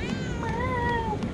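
A cat from the video game Murdered: Soul Suspect lets out one long, drawn-out meow that holds clear and fairly loud over a steady background.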